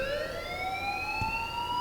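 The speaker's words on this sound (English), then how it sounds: "turn off that alarm since that's your job." Electronic school alarm in the game Life is Strange, a steady, loud rising tone with stacked harmonics that sweeps slowly upward and sustains without a break.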